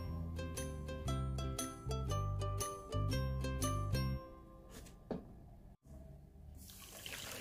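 Water being poured into a pan of red-and-white pudding mixture made with agar, sugar and sweetened condensed milk, a close steady trickling pour with shifting gurgling tones that tapers off into quiet splashes.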